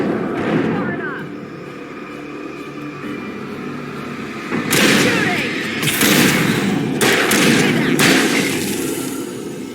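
Gunfire in the video game Alan Wake, booming shots and thuds from weapons over a tense game soundscape, with several heavier blasts in the second half and voices talking throughout.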